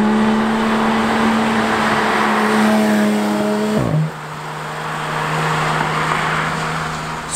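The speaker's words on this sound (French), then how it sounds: "Moi, je vais y aller modestement avec ma petite Toyota Vitz." A small Toyota Vitz drives along a Japanese road, heard from the cabin as a steady engine drone with a gear change partway through. Road and wind noise continue beneath it, and no one speaks.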